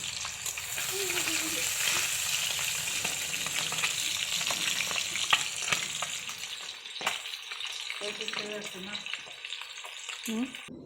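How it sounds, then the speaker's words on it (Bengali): Fish fries in a pan with a steady, dense sizzle and crackle throughout, close and fairly loud, with occasional stirring clinks and faint background household sounds. "এই দেখো হচ্ছে মাছ ভাজা হচ্ছে"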